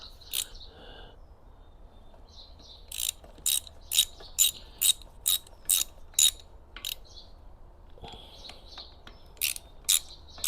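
A ratchet tightens a bolt on the rear brakes of a 1980 Chevy C10 square-body truck, with close, crisp clicking in quick bursts separated by short pauses.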